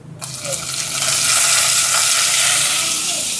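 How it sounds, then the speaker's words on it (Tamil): Onions, garlic, green chili and tomato sautéing in a pan, a loud sizzle that swells quickly after a brief quiet start and holds steady close up. "இப்போ இங்கே வெங்காயம் வதங்கிட்டு பாருங்க நல்லா"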